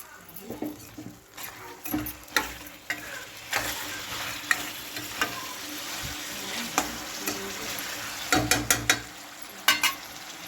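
A spoon stirring green chicken pieces with turmeric in a frying pan: repeated scraping strokes over a steady sizzle, close and fairly loud, with irregular clatters against the pan.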